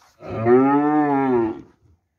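A single long, low moo from a Limousin cow, close and loud, lasting over a second before fading out.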